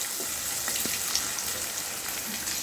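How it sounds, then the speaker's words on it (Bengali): Chopped onions sauté in a pan with a soft, continuous hissing sizzle, close by and fairly even, with no voices. "সবগুলোকে ভালো করে সতে করে নেব"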